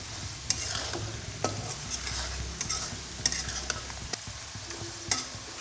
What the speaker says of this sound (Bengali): এখন সামান্য লবণ দেব দিয়ে এগুলোকে ভালোভাবে কষিয়ে নেব মশলাগুলোকে